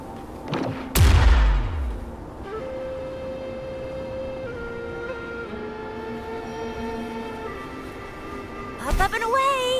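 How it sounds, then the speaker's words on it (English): A tacitite fulminate charge blows up on a cliff in Wuthering Waves: a sharp, loud blast with a decaying rumble, followed by sustained tonal game music and a second burst near the end. "Perhaps we can create an opening in this disk with an explosion."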